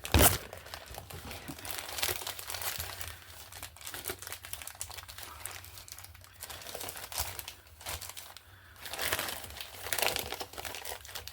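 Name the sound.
plastic being crinkled and anchored in place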